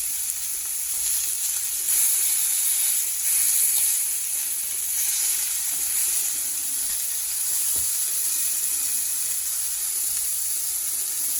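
Steak sizzling steadily in a hot pan on a gas stove as it is basted and flipped, a loud continuous crackling hiss with slight swells, no voices.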